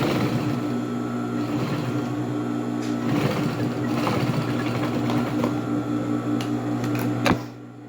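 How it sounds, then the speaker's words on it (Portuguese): A sewing machine stitching a seam with its presser foot, a steady loud mechanical whir with a constant hum running unbroken for several seconds, then cutting off abruptly near the end. "E aqui eu vou passar uma costura, ó, com o pé calcador."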